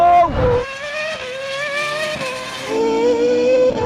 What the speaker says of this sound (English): I can hear the Formula One car.